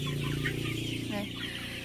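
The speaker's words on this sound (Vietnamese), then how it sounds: "để cho các cô các bác xem một chút về cái đàn gà đầu tiên mà chúng em bắt đây ạ" A flock of chickens in a coop clucks and murmurs in a dense, continuous layer, steady and moderately close throughout.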